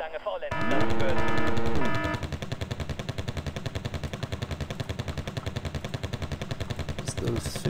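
Rapid video game machine-gun fire from .50-calibre guns, a dense continuous rattle of repeated shots that starts after a brief rising engine-like drone and keeps going steadily to the end, loud and close.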